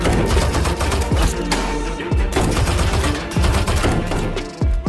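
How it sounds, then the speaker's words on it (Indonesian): Rapid bursts of automatic gunfire and single shots ring out in a loud, dense exchange between special forces and soldiers in a film battle scene. "Sehingga baku tembak pun terjadi."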